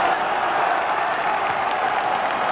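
Football crowd at a 2002 Southport versus Notts County match, cheering and applauding in a steady, dense roar of claps and voices that holds throughout without a break.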